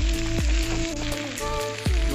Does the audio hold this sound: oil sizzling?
yes